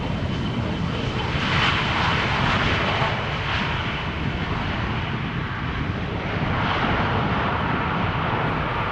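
An Italian airliner at Amsterdam Schiphol Airport in a chilly 16-knot wind, its engines producing a loud, sustained roar that swells and eases slightly, broad and continuous with no talk.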